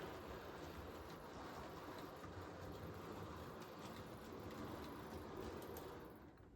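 Model railway Scotsman locomotive running steadily along a layout's track, a continuous close rumble and whir with faint clicking that fades slightly at the end.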